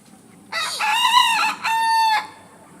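A jungle fowl rooster on a farm crows twice in quick succession, loud and near against a quiet background.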